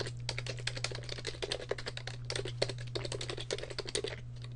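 Rapid, uneven keystrokes on a computer keyboard as an email address is typed, close and fairly quiet over a steady low electrical hum, with brief pauses between bursts.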